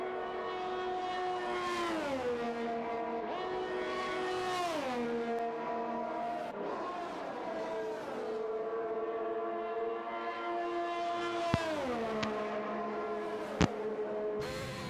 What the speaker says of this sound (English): As we have a few cars leaving the garage now.